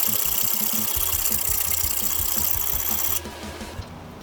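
A reamer is rubbed by hand across a 260 grit diamond plate in a workshop, giving steady rhythmic scraping strokes up close that stop abruptly near the end.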